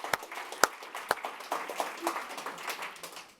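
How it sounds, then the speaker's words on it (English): Scattered clapping from a conference audience thanking catering staff at a forum's closing, a few sharp close claps over a thin, uneven patter that stays fairly quiet. "round of applause for the catering staff"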